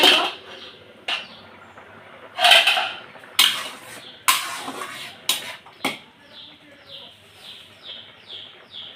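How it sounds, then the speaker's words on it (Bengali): A metal lid clanks as it is lifted off a cooking pot of simmering hog plum (amra) chutney, giving several sharp, close knocks and scrapes, with faint bird chirps in the background. "এবার আমি ঢাকনাটা তুলে"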